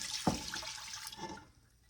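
Wine is poured from a bottle into a pot for port jelly, making a soft, steady liquid splash with a brief clink at the start that fades out toward the end.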